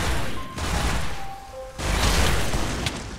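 Gunfire in a video game, loud cracking shots and booming bursts in clustered volleys, with a brief lull before another heavy barrage.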